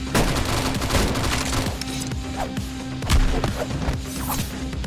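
Gunfire and grenade blasts from a Counter-Strike match on the Dust2 map: loud, dense, continuous bursts of shots and booming impacts filling the whole stretch with no pause.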